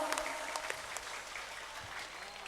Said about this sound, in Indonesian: tepuk tangan buat Mas Eko.